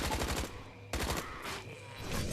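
Machine gun fire in the video game Deadly Defense rattles in rapid bursts, a quick run of shots, a short pause, then another burst with a fading tail, loud and close.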